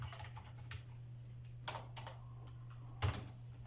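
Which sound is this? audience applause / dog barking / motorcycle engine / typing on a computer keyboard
typing on a computer keyboard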